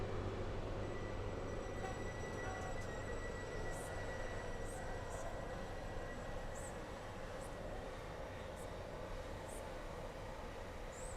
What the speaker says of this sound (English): The train now approaching platform 15 terminates here.